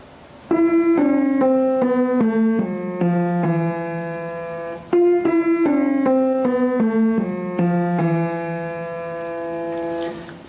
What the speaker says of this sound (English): This is the archytas enharmonic scale, and it has a rather strange sound because it has quarter tones in it.